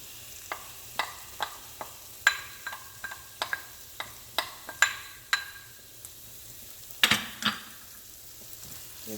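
Kimchi sizzles in a frying pan with onion and scallion whites while a utensil stirs and scrapes, giving a run of sharp, evenly spaced clicks over a soft frying hiss, close by with no talking.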